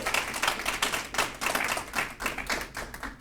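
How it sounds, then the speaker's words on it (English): Short round of clapping after a school superintendent names elementary schools, a handful of people clapping in uneven rhythmic bursts close to the microphone. "Let's give them all a round of applause."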